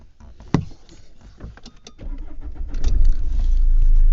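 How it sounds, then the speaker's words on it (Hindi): A Mahindra Scorpio's engine is started, with a sharp click, then cranking that catches and settles into a loud, steady idle close by. "अब ये गाड़ी ऑन हो गई।"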